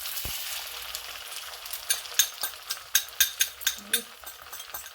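Egg frying in oil in a pan while cooking shrimp pad thai, a steady close sizzle with a run of sharp spatter pops and stirring clicks building toward the end, with no talk.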